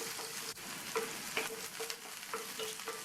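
Chopped onion and garlic sauté in a hot pan for kathamba chutney, sizzling continuously while a spatula scrapes and taps in a quick irregular rhythm, close and clear.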